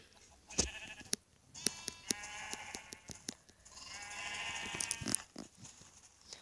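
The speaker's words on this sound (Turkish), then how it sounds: "Sonraki hayvanımıza geçelim. Koyun." Sheep bleat several times in Minecraft, fairly faint, with sharp clicks and taps scattered between the calls and no talking.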